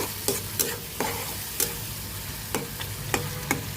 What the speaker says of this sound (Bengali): এখন আমি আবার নাড়িয়ে দিচ্ছি